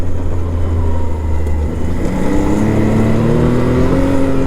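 A Can-Am Maverick X3 DS Turbo RR side-by-side accelerates hard on a trail, its turbo engine roaring loud and close with rising pitch sweeps through the gears, alone without talk.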